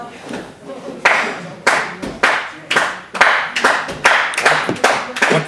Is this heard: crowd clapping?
yes